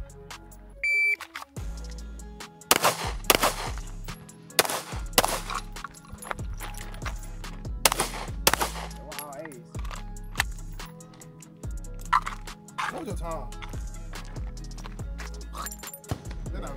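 Taurus G3 pistol fired at a shooting range, giving sharp, loud gunshots in an uneven series with short pauses between bursts, heard close by with no talk over them.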